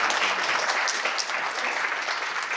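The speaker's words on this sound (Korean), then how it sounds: "박수로 환영해주십니다" Steady applause from a seated audience at a commemoration ceremony marking the 102nd anniversary of the Battle of Cheongsanri, welcoming arriving dignitaries; dense, even clapping throughout with no voices.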